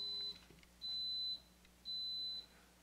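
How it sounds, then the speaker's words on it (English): A clothes iron beeps in a quilting room, two long steady high-pitched tones with short gaps between, faint against a quiet background hum. "Oh, there's my iron beeping."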